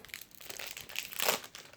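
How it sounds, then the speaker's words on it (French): Paper cards and their packaging crinkle and rustle close by as they are torn open, a continuous, fairly quiet crumpling with a slightly louder burst near the end. "D'abord j'ouvre les cartes."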